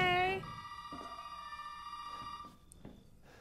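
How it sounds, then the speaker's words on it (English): Electronic telephone ringing in the video game Resident Evil 7, a sustained tonal ring that cuts in and holds for about two seconds before stopping, over a quiet game ambience. "Now the phone rings."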